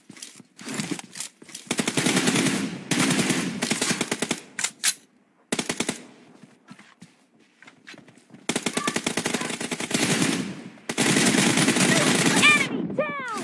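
Gunfire from a shotgun-type weapon in a multiplayer team deathmatch video game, with loud bursts of rapid automatic fire, a few sharp single shots and short quiet gaps between volleys.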